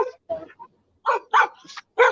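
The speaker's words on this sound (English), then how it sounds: "this dog is going crazy" A dog barks several times in short, sharp bursts, close by, with a brief yip among them.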